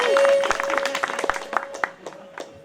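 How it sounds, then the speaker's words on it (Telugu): A crowd at an Ambedkar 150th birth anniversary gathering in Ullampally village breaks into loud, close, brisk applause with scattered individual claps, fading somewhat toward the end, while a voice carries a steady tone over it. "కొట్టాడు రా చప్పట్లు"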